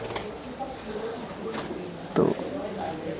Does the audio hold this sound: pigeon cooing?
yes